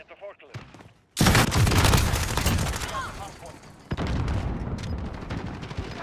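Heavy video game gunfire bursts in suddenly, a dense, loud, sustained volley of shots and booms that continues with slight variations until the end.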